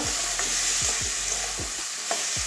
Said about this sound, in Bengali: এবারে এটাও কষিয়ে নেব